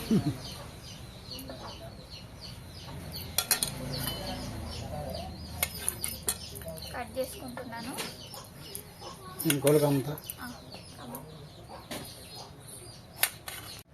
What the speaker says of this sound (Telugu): మా కోళ్ళు ఇంకా లోపల పోతున్నాయి చాలా ఉన్నాయి ఇక్కడ పైన కొన్ని పోతున్నాయి